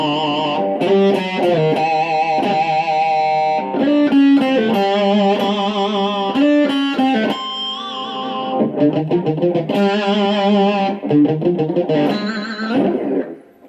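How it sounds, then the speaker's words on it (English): An electric guitar plays a harmony run through a distorted amp, a steady stream of buzzy sustained notes and slides, loud and close with brief breaks between phrases. "the distortion in my amp is really not very good"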